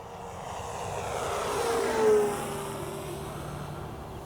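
A Durafly FG-1 radio-controlled model plane makes a fast pass down a runway, its propeller drone swelling toward a peak near the midpoint and easing off as it goes by, with steady wind noise throughout.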